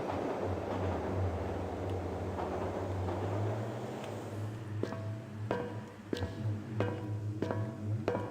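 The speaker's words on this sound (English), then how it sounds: "Okay, let's go to the tram." A tram ride in the Journeyman Project game on the Mars colony gives a steady low mechanical drone and rumble, then a run of sharp, regular clanks and ticks near the end, with no talking.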